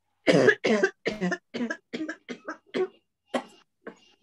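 A woman coughs in a series of about ten harsh, rapid bursts, close and loud, with short gaps between them and no other sound.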